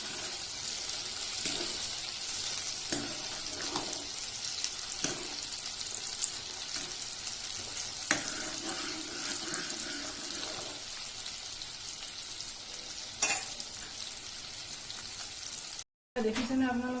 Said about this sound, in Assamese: মই এতিয়া এইখিনি ফ্ৰাই কৰি ল'ম অলপ ৰংচোৱা হোৱালৈকে।